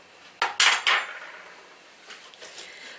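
A bowl of oatmeal cookie dough with salt and eggs being mixed, giving a few sharp clinks and scrapes of utensil against the bowl early on, followed by softer, fainter scraping.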